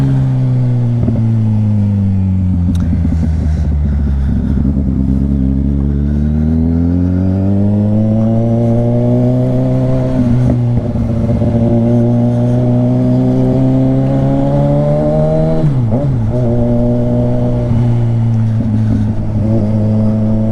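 A Kawasaki Ninja 1000SX motorcycle roars through a tunnel, its exhaust loud and close, revving continuously with the pitch swelling, dipping and climbing again for the whole stretch, with no talk over it.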